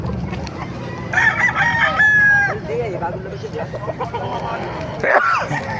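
Roosters at a gamefowl market in Bocaue, Bulacan crow loudly nearby, with overlapping calls and clucks. Someone talks throughout over the birds.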